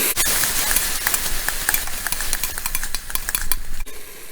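Tomatoes frying for a Telugu black-eyed peas curry, with a loud continuous sizzle and repeated spoon scrapes and clinks against the pan, close up throughout.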